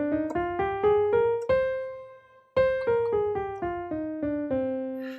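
Natural minor scale notes played one at a time on an instrument, a run of separate plucked or struck tones climbing and then descending after a short pause, each decaying quickly, evenly spaced, clear and close, with no talking.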